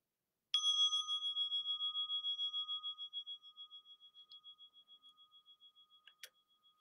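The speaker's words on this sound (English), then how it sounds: "The sound of this beautiful bell returns us to our true home" One struck meditation bell rings out alone in a quiet room, clear and close, its bright tone pulsing slightly as it fades slowly over several seconds, followed by a few faint clicks.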